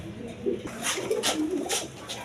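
Pigeons coo steadily at a pigeon farm, with close, repeated throaty coos over a busy background of other birds.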